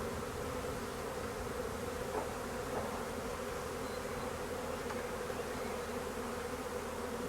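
A honeybee swarm being scooped into a bucket outdoors, a continuous dense buzzing drone of many bees, steady and moderately faint with no talking.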